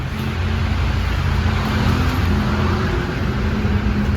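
A Maruti Suzuki Swift Dzire diesel, just back from a major service, out on a test drive: a loud, steady engine and road drone heard from inside the car, with no talking.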